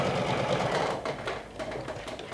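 Sewing machine running steadily as it stitches a half-inch seam along a fabric pocket fold line, a continuous close whirring hum with a slight dip partway through.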